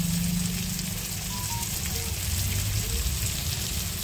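Ginger, garlic and cumin pastes sizzle in a frying pan while being stirred for an aar fish curry, giving a soft, steady frying hiss that holds evenly throughout.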